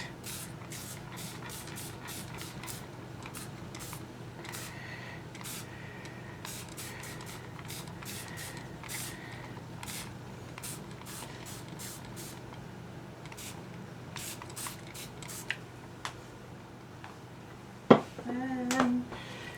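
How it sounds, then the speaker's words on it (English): Quick, sharp hisses from a spray bottle come in scattered bursts over a faint background, with a couple of louder clicks near the end. "Oh, my spray bottle."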